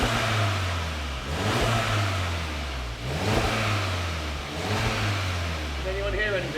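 Volkswagen Golf GTI with its stock exhaust, the engine idling and rising in a few soft rev swells, fairly quiet and steady, with people talking over it.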